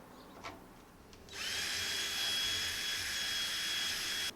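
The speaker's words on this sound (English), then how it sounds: "I have to drill 2 small holes for these screws" A power drill bores two small screw holes into a drum shell, whining loud and steady for about three seconds close to the microphone after a few faint knocks.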